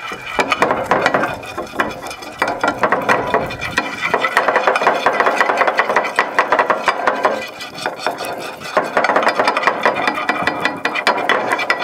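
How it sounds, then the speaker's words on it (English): Heavy screwdriver cutting and scraping through hardened oil in a tray outdoors, giving a continuous close, gritty, ratcheting scrape with no talk. "Because of the weight of the screwdriver, it helps you to cut through that oil"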